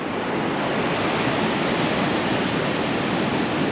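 Ocean surf rolls in at the mouth of the Powlett River as a steady, dense roar of breaking water with no voices over it.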